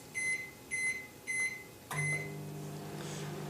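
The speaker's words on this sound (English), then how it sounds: "Pop that in the microwave for 25 seconds." Microwave oven melting soap base: three short electronic beeps at a steady pace, then a fourth as the door opens into a steady low hum of the running oven, fairly close and with no talking.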